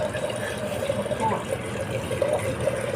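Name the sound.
water flowing through an unclogged floor drain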